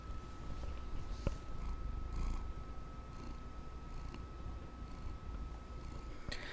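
A house cat purrs steadily close by, a soft, low, continuous rumbling with slow rhythmic pulses and a few faint clicks in the background.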